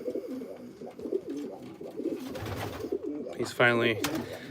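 Racing pigeons cooing softly in their loft, repeated low throaty coos coming close by, with a louder burst near the end and someone talking over them.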